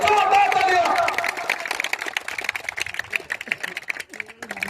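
Applause and crowd noise at a cricket competition, loud at first and then continuing beneath an amplified voice speaking over a public address system.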